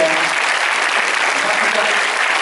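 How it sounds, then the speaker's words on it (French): A cinema audience at the premiere of Jacques Audiard's film Les Olympiades applauds the cast and crew, dense, loud clapping from many hands held at an even level throughout. "Je vous demande de les applaudir."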